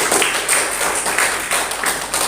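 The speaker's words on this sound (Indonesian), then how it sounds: "Tepuk tangan dulu untuk kita semua." A school-event audience claps together in a dense, steady burst of applause, loud and near, with no talk over it.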